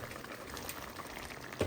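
Prawn curry simmering in a covered pot as the lid comes off, giving a faint, steady bubbling and hissing simmer with a small clatter near the end and no talk.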